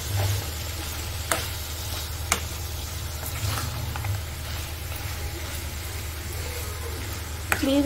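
Mutton curry is stirred in a pot, with a low, steady simmering hiss and a bubbling hum. A few sharp clinks of a spoon against metal ring out at scattered moments. Nobody speaks.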